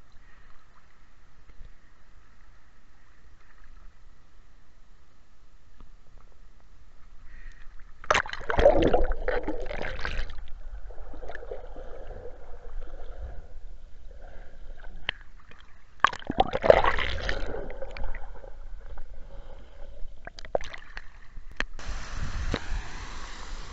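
Water gushing through an open sluice gate at a summer swimming spot, a broad rushing wash that swells in two strong bursts and then holds steady.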